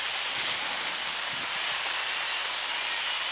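Steady rain falls during a college softball championship game, a constant broadband hiss of drops on surfaces with no talk over it.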